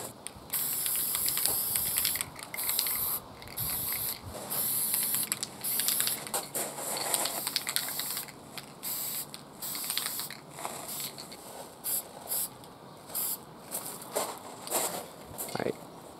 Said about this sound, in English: spray paint these black